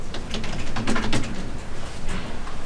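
Rapid clattering keystrokes on a computer keyboard while entering a client's address, a dense run of close, crisp clicks heard alone.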